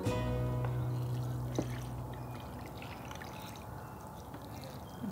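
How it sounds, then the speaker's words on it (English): Watering cans pour water onto garden flowers, a steady splashing trickle that fades gradually over a few seconds, with faint background chatter. "go ahead and water your flowers"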